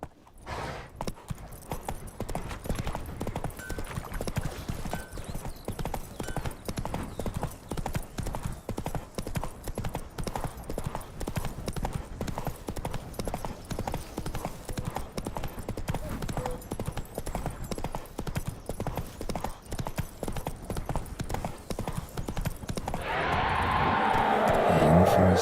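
Roach, a horse in The Witcher 3, gallops with rapid rhythmic clip-clop hoofbeats throughout, steady and fairly loud, with a brief swell of other noise near the end.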